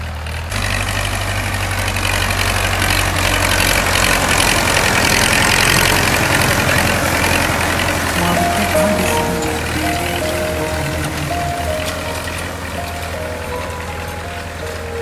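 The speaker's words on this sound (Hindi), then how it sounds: "तो भाई अजय चला रहे ट्रैक्टर" An HMT 6522 tractor engine without turbo, in second gear, idles and chugs steadily with a deep low rumble, rising slightly in intensity midway before settling back to a constant drone.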